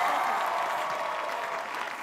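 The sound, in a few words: audience applause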